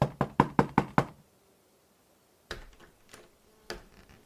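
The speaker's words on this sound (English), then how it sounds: "Jay peered into the window of the door, shading his eyes. He then shrugged and knocked." Knuckles rap on the front door of a parents' home in a quick run of six sharp, close knocks. After a pause, a few scattered thuds and softer handling noises follow.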